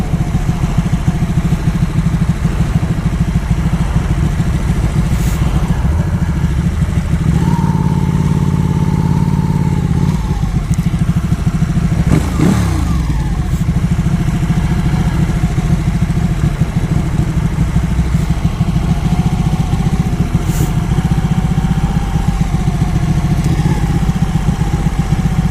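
Several motorcycles idle at a Ducati ride gathering, a continuous close engine rumble. Partway through, one bike's engine rises briefly in pitch, then settles back into the steady murmur, with light clatter and no voices.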